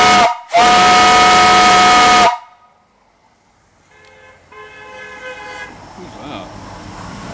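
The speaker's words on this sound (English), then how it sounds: "Here's the whistle. I'll blow that." A steam whistle on a massive steam boiler fitted with an injector gives one loud, sustained blast of about two seconds, then drops off to a quiet background hiss and faint machinery.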